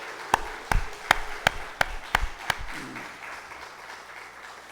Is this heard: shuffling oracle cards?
no